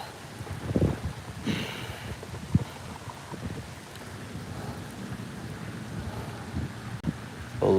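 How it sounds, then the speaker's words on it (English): Wind gusts over a lake during a fishing trip, a steady rough rumble buffeting close by, broken by a few thumps and knocks, with no talking. "All this wind here."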